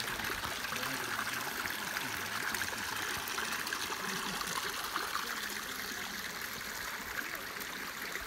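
Babbling stream in the Hungarian hills, a constant close burble and trickle of water running alone without breaks.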